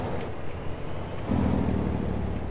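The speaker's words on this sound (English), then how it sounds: "I love the sound of this truck." A heavy truck engine in Farming Simulator 22 rumbles steadily, growing louder and deeper midway as it revs, with a faint high whine early on.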